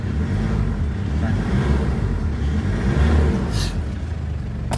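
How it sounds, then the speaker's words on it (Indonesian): A Ford Everest engine idles steadily with a low, continuous rumble throughout, fairly close and even in level, with no clear revving. "ini mesin sudah nyala"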